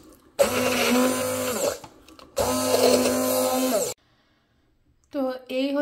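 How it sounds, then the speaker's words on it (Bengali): A kitchen blender grinds coriander leaf bhorta in three loud, whirring bursts, each running a second or more and separated by short silent pauses. "তো এখন এটা ব্লেন্ড করে নিব"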